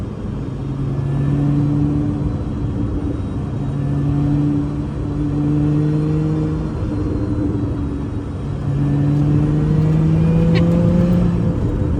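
A Lotus Emira in track mode laps a race circuit, its engine droning steadily with tones rising and falling through gear changes, close and continuous throughout.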